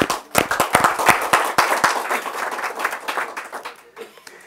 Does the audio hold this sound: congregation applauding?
yes